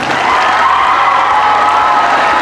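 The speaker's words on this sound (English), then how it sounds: "Give her another round of applause." School audience of students and faculty breaking into sustained applause and cheering, a dense steady roar of clapping with scattered shouts from children, close and loud.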